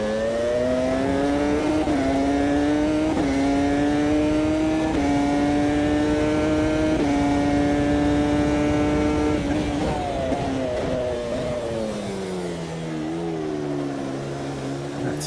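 Close and loud, a race car engine on a wet circuit climbs through several stepped rises in pitch, holds a steady high drone, then winds down near the end.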